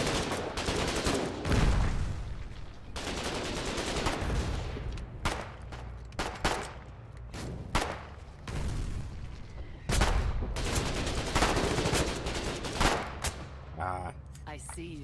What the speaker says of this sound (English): Shooting that big old gun.